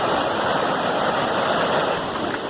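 A creek rushes steadily in a broad, hissing wash, close and continuous, with no voices.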